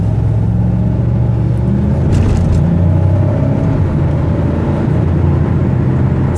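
A 2006 Chevrolet Monte Carlo on a test drive hums with a steady low engine and road rumble from inside the cabin, swelling slightly as it accelerates.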